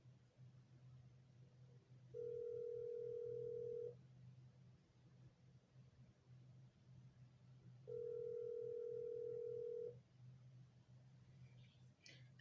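Telephone tone heard while placing a call, two steady beeps of about two seconds each separated by a pause, over a low background hum with no clear talking.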